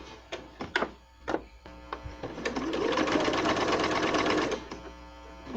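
A sewing machine stitches fabric for a bunting garland, starting with a few sharp clicks and thumps before a steady, fairly loud whirring run of several seconds that then stops.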